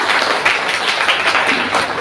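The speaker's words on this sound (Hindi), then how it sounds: "ताली बजाएंगे बाबा साहब।" Audience applause at a Hindi-language speech, a steady wash of many hands clapping at moderate loudness throughout, with no clear voice over it.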